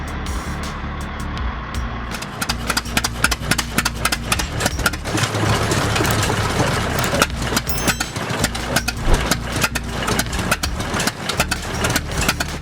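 Old heavy engine cranks over and catches, then settles into a loud, steady, rumbling idle with a rapid rhythmic chug, heard close and alone.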